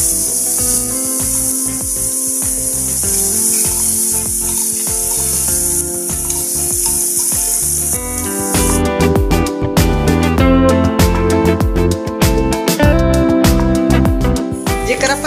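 Garlic chutney tempers in a hot pan with cumin and coriander, sending up a loud, continuous sizzle that turns busier and more crackly partway through.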